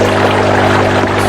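Water is poured into a pond filter, a loud, close, continuous splashing pour over a steady motor hum, brief and with no talking.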